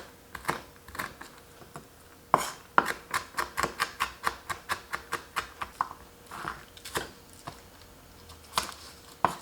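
Scallions finely chopped with a knife on a cutting board for a broccoli salad, a close run of crisp, rapid, evenly spaced thuds with short pauses between bursts, alone without talk.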